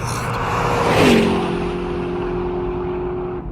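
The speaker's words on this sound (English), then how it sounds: "A car speeds past them, running a red" A car speeding past through a red light in a police audio drama: engine noise swells to a loud, close whoosh with a falling Doppler whine, then trails off into a steady receding hum.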